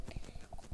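Quick clip-clop of horse hooves in Minecraft, a few rapid steps at moderate distance, faint and brief.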